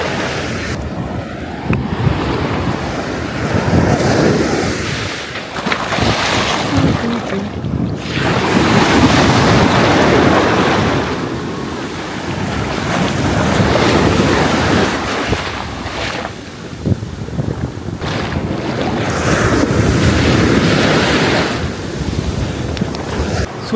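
Strong ocean waves at Munakkal beach in Kerala, loud surf crashing and washing in repeated long surges roughly every few seconds, mixed with buffeting wind noise on the microphone, no speech.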